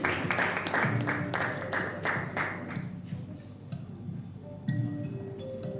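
An audience at a memorial quiz competition claps in a burst of sharp, distinct hand claps that thin out after a few seconds, leaving murmuring and room noise.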